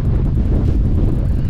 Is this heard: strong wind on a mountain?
yes